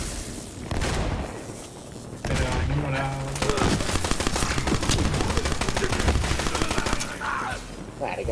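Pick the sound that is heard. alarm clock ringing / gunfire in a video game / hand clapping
gunfire in a video game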